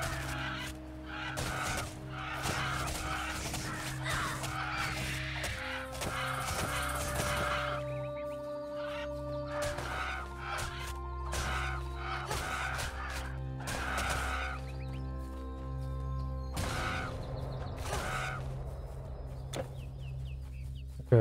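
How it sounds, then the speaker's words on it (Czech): Game fowl in the action role-playing game Titan Quest cluck and honk repeatedly over a steady, layered in-game soundscape. The calls stay continuous and moderately loud throughout, with no talking. "Ptáci tady jsou."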